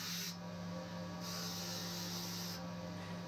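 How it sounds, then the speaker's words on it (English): Rough grinding of the bevel on a Damascus-edged forged axe, a steady, continuous abrasive hiss and whine from the grinder that runs unbroken and fairly loud, swelling slightly in brightness as the blade is worked. "I'm beginning to roughly grind in the bevel"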